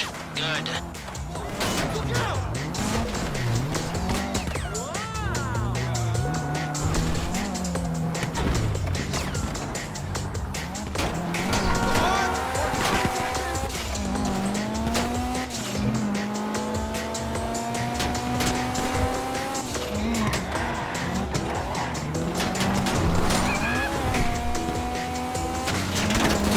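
A car races through GTA 5 on the way to a Fleeca bank heist, engine revving and shifting, with repeated tire squeals and skids throughout and a voice talking over the driving.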